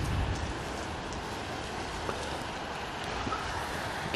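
Steady rain patters densely on a surface, a constant hiss with scattered drops, heard alone without speech.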